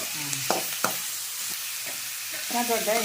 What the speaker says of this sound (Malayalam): ചെറിയ സവാളയും കൂടെ അരിഞ്ഞ് കൊടുത്തു കേട്ടോ അത് നല്ലയിടത്ത് ഇളകി കൊടുക്കുക